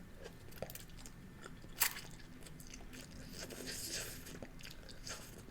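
Noodles in homemade soup being bitten and chewed close to the mic, soft wet crunching and mouth noises with one sharper bite, steady over a noisy background.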